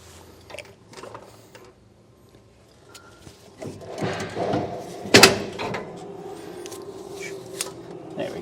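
Metallic clicks and rattles as a trailer hub is wiggled to pop out the spindle washer and outer bearing, sparse at first, then busier with a sharp metal clank midway, close and dry.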